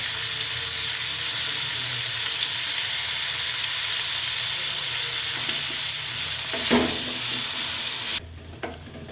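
Indian gooseberries (amla) cooking in a pan for pickle, with a steady close sizzle and occasional stirring knocks before the sound drops away near the end.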